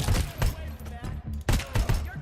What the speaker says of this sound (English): It's a good assault rifle.